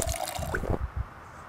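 A character gulps water in the zombie survival game Project Zomboid, a short series of four or five soft, wet swallowing and sloshing sounds, close and moderately loud, fading out quickly.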